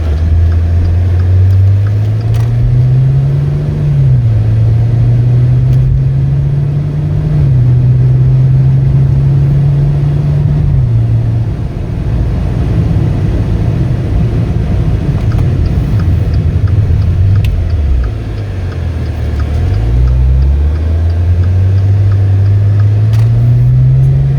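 A 2015 Maserati Ghibli S Q4 with an all-wheel-drive 3.0-liter twin-turbo V6 hums along steadily in a low, droning rumble, its engine note shifting slightly as it rises and falls throughout, with no voices.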